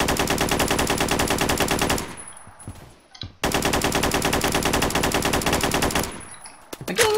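Gunfire in the Roblox video game: two long stretches of rapid, loud, evenly spaced shots separated by a short lull, with some scattered shots near the end.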